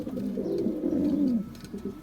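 Soft, low pigeon cooing that rises and falls continuously for about two seconds, close by, with faint background noise.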